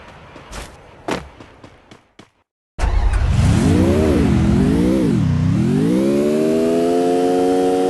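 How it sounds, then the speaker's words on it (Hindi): A race car in the Free Fire video game starts up after a few short clicks and a brief silence, then revs loudly, rising and falling before settling into a steady high whine. "सामने मुझे एक रेस कार दिख गई, तो चलो बोला इसमें बैठ जाते हैं अब।"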